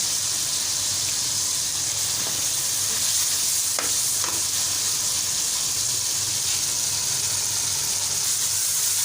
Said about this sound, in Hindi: अब इसके अंदर हम ऐड कर देंगे चिकन को हम करेंगे ब्राउन